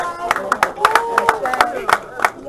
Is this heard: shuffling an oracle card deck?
no